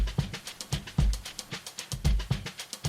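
A crossfire drum break for a remix, punchy kick hits under a fast pattern of crisp hi-hats bouncing between ears, steady and mid-level with no voices.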